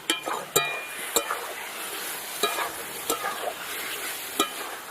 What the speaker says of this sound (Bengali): এই যে মশলার সাথে ভালো করে কষিয়ে নেব